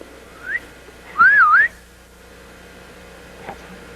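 A single short, wavering whistle from a person, moderately loud and lasting about half a second, rises out of a quiet outdoor background at a wolf education and research center, with faint sounds around it.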